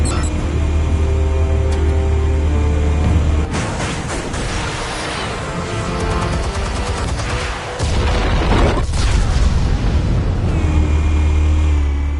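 Explosives detonating in Batman: The Telltale Series, a loud rumbling burst of blasts and crashing debris in the middle of the clip, set over a steady low drone.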